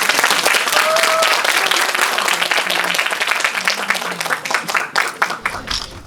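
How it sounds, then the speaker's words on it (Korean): A live audience claps loudly and continuously to welcome guests onto the stage at a Korean documentary film screening and talk event in a small arthouse cinema, the applause thinning toward the end. "큰 박수로 맞아주세요."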